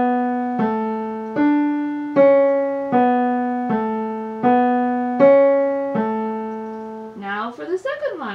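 The opening line of Bach's Marche plays on a keyboard as a clear run of eight detached notes at a steady march pace, with a brief flurry of faster notes at the end.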